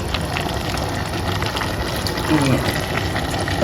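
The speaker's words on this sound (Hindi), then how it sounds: "हल्का सा सिर्फ पानी डालूंगी, बिल्कुल हल्का सा ठहरा दिखाती हूँ।" Water pours steadily into a cooking pot for custard in a home kitchen, a continuous close splashing gush with faint voices and kitchen noise underneath.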